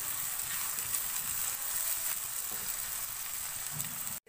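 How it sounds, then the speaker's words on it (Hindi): Chopped onions frying in a pan toward golden brown, giving a steady, dense sizzle up close that runs evenly and cuts off abruptly at the end. "प्याज को हमें अच्छे सा गोल्डन ब्राउन करना है"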